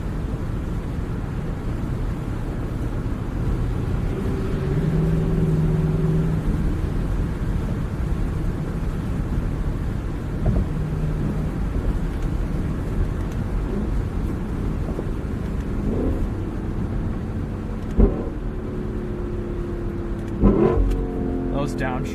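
A Lexus sports car engine revs and downshifts, a steady loud drone with sharper rev blips and bursts toward the end, with voices talking over the engine noise.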